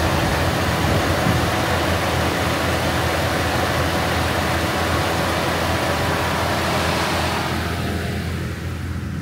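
A 2004 Dodge Ram's 5.7 liter V8 Hemi engine runs at a steady idle, loud and close under the open hood, a continuous rumbling drone that quietens slightly toward the end.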